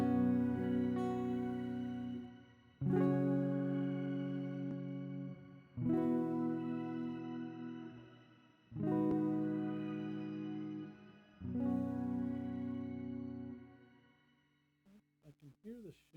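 Sustained electric guitar chords ring out in four strummed swells through a NUX Verb Core Deluxe reverb pedal, each washed in a shimmering, airy reverb tail that lingers and fades.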